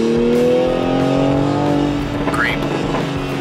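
A 2020 Toyota Supra's 335-horsepower engine revs loud and near from inside the moving car, a droning tone climbing and then easing off, with a brief higher squeal near the end.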